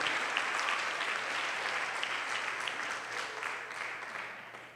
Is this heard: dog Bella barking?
no